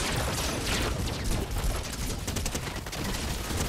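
Dense, loud bursts of gunfire in Fortnite, with rapid shots crackling and overlapping almost continuously with no clear gaps.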